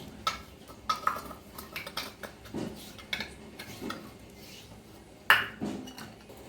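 Freshly ground paste scraped out of a grinder jar into a bowl: scattered clinks and scrapes of a spoon against metal and glass, uneven taps with one sharper knock near the end, close and quiet, no voices.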